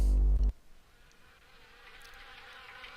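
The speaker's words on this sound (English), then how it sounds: "Seem to be a lot of wasps." Wasps buzz in a steady, faint, thin drone around an abandoned house in the Harvester video game, after a loud low thump at the start.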